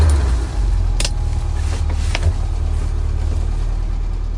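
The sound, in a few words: car engine running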